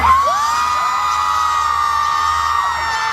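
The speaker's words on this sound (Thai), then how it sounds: "ขอเสียงกรี๊ดดังๆอีกสักครั้งหนึ่งได้ไหม" A crowd screaming and cheering loudly and steadily, high-pitched shrieks sustained throughout with a few rising whoops.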